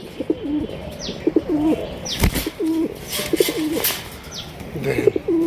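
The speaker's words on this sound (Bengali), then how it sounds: "একদম অস্থির লেভেলের একটা বোম্বাই ইন্ডিয়ান বোম্বাই কবুতর" Bombay Indian pigeons coo indoors in a room, repeating rhythmic throaty coos close by along with a few higher chirps and light rustling.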